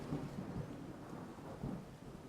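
Rain and rumbling thunder from a storm cloud in The Universim, a steady soft wash of rainfall with low rolls, faint and continuous with no voices.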